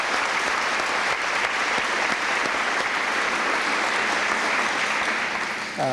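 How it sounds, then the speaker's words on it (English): A dense round of applause at a 1997 high school football banquet honours the cheerleaders, steady and full for about six seconds before tapering off, with a voice starting at the very end. "I guess we better give them another round of applause"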